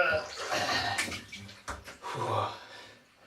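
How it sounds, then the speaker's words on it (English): Water sloshing and splashing in a tub full of ice as a person lowers into an ice bath after training, close and fairly loud, with gasping vocal sounds mixed in. "Ice bath after training today on this romantic day of days, and that's the way to do it. Tub full of ice."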